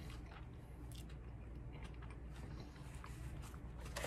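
Someone bites into a burger and chews it, with soft wet mouth sounds going on steadily up close and no talking.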